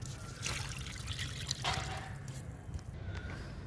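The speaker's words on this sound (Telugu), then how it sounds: "ఈ మొక్కకు కూడా లిక్విడ్ ఇస్తున్నాను" Liquid fertilizer pours onto a potted plant, a soft close trickle and splash of water into soil that comes in uneven bursts over a few seconds.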